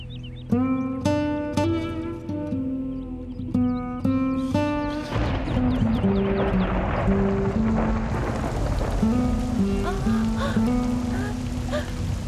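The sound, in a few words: rain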